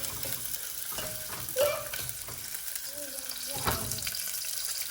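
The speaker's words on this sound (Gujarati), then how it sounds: "જો આ રોટલી વઘારાય" Leftover roti stir-fried in a pan: quiet, continuous sizzling with occasional stirring scrapes, close up, with no talk.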